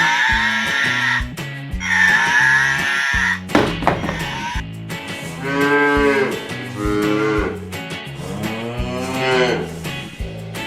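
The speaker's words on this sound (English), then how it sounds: "Cow." A cow moos in several long, drawn-out calls over a steady background of music, loud and close throughout.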